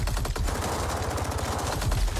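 Rapid, sustained automatic gunfire in the video game Mortal Kombat 11, dense overlapping bursts rattling continuously at close range.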